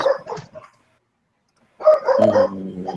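A dog barks in the room, loud and close, in two clusters of sharp yips and woofs separated by a brief silence, the second burst tapering into a whine.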